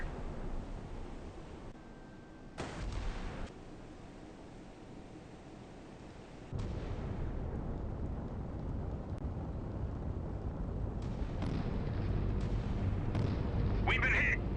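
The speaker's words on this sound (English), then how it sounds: "Engaging track 7031. Salvo fire." Heavy naval guns fire a salvo in the Sea Power naval warfare game: sharp booming blasts at about the third and sixth seconds, then a sustained rumbling roar, with a synthetic voice calling out targets.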